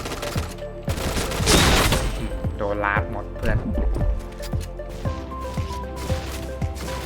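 An XM7 gun fires in the online shooter Point Blank, a regular series of punchy shots roughly twice a second under a player's excited talking.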